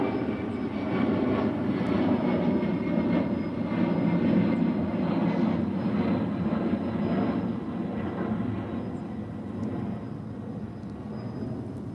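A UPS aircraft departs DFW airport, its steady, broad engine roar holding loud and constant throughout, slowly easing slightly toward the end, with no voices.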